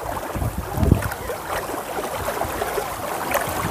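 A boat carries people across flood water, giving a steady, rough wash of water and wind noise, close and fairly loud, with a few brief bumps and no clear talk.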